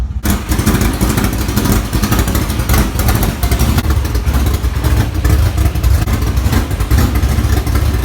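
A race car engine on a B-mod motor roars and revs steadily at close range, loud and continuous with no speech over it.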